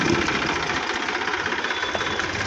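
A tractor stuck in a roadside pothole idles with a steady, rough, knocking drone that stays close and even throughout, with no voices.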